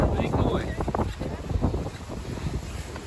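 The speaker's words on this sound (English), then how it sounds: "It's very, very windy out here." Strong wind buffets the microphone at a seaside caravan campsite in Mablethorpe in March, a steady broadband roar with gusts rising and falling throughout.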